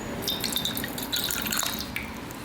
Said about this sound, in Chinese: 加入清汤40克